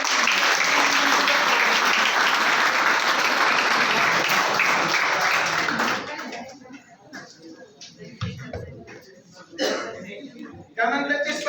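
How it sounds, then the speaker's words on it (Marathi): An audience at a school prize-giving ceremony, marking a first prize for decoration, claps loudly and steadily for about six seconds. The clapping then stops and gives way to quiet room noise with scattered soft sounds. "टाळ्या वाजल्या पाहिजे."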